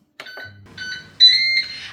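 A Ninja Speedi cooker signals the end of a grilling cycle with a short run of electronic beeps, loud and close, ending in a longer sustained tone.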